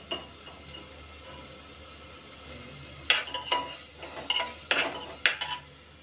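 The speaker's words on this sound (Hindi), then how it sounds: "तेल अभी नहीं छोड़ा है जब तक तेल नहीं छोड़ेगा तब तक मैं इसको भूजूंगी" Paneer masala being fried in oil, a low background sizzle that turns into several close, sharp scraping stir strokes in the second half, with no talking.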